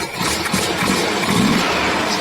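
A 1969 VW Fastback's engine idles while warming up, a steady, close, loud air-cooled chug with no talk over it.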